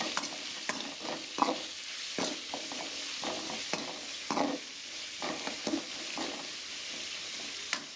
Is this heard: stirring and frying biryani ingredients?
yes